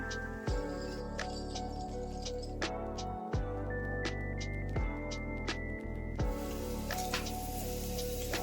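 Mangalore-style spicy dosa frying on a hot pan after oil is added, a steady close crackling sizzle running throughout with a few sharp clicks and taps of utensils.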